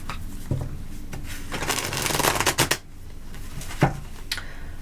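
Tarot cards riffle-shuffled close by, a dense rapid flutter of card edges building for about a second, then breaking off, followed by a few isolated taps and card knocks.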